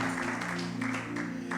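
A church congregation clapping an offering of applause to the Lord: steady, rhythmic hand claps over sustained keyboard chords, moderately close.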